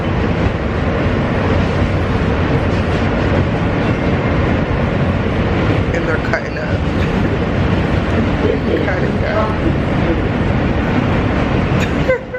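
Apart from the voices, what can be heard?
train ride interior noise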